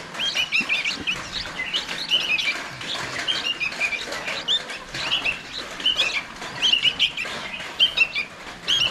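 Green bird nestlings chirp from a nest, a close, busy run of high thin cheeps in repeated bursts over a rustling background, with no talking.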